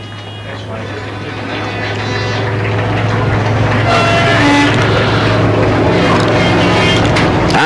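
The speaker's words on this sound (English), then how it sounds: "just coming down the home straight now from Cirencester in Gloucestershire, it's 117, Rob Scriven." Brisca F1 stock cars racing down the home straight of a speedway in 1991, a loud continuous roar of engines that builds and stays close, with a commentator talking over it.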